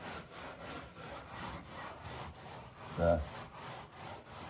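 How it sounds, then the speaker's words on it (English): A stainless steel pad scrubs residual finish off the wood of a 1950 22-foot Chris Craft U22 boat, giving steady, close rhythmic rasping strokes with a brief louder scrape near the end. "stainless steel pad is cleaning all of the residual"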